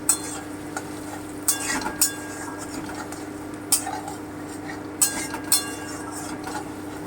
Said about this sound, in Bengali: এখানে একটা রসুন নিয়ে নিয়েছি হালকা করে একটু ভেজে নিচ্ছি বাদামি করে